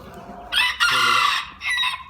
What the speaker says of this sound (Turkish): İki tane ispenç horozumuz var.